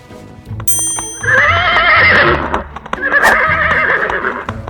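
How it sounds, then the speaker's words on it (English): A white horse whinnies loudly in two long, wavering neighs close by, with a short bell-like ring just before and faint clip-clop underneath. "Wow, it's a beautiful white horse!"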